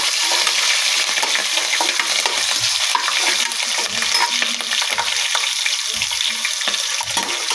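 Green chillies frying in a pan with kasuri methi for egg biryani, a loud, dense, continuous sizzle with occasional spatula stirs, close up.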